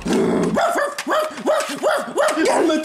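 A dog barks in a rapid series of sharp, loud yaps and whines close by, about six in quick succession.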